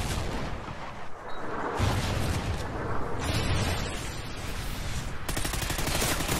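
A grenade blast in a Call of Duty: Ghosts multiplayer match, buried in a dense, continuous roar of gunfire and explosions that stays loud and busy for the whole stretch.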